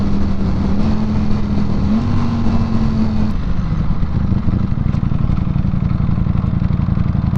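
A Ducati Panigale V4S motorcycle engine runs steadily up close, a loud continuous mechanical roar with a tonal drone that shifts partway through and then gives way to a rougher, pulsing idle.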